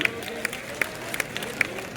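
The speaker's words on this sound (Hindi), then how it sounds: "एक बार तालियां बजा दीजिए ताकि ये शुरू हो" A late-night mushaira crowd gives sparse, scattered handclaps, a few sharp separate claps spread across the moment, fairly distant, with faint background voices.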